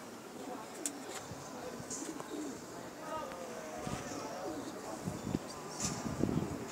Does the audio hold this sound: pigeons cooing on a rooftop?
yes